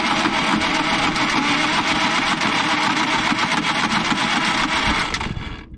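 The diesel engine of a Caterpillar D8H bulldozer, left sitting for over 15 years, cranks and churns in a steady, loud, continuous drone in cold weather, cutting off abruptly near the end.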